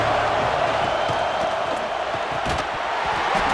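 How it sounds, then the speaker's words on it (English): A stadium crowd roars in the video game EA Sports College Football 26, a steady dense wash of cheering with faint thumps, continuous and fairly loud throughout. "This crowd ready to make its presence known."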